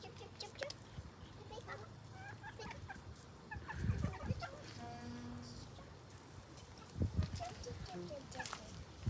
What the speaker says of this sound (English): Jemima's just feeding the chickens some of her breakfast.